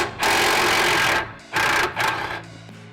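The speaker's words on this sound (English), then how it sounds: "Remove the 18mm nut from the bolt connecting the steering knuckle to the strut assembly." An 18mm nut comes off the bolt that joins the steering knuckle to the strut on a Skoda Octavia Mk III. Three close, loud bursts of buzzing, rattling tool noise are separated by short pauses.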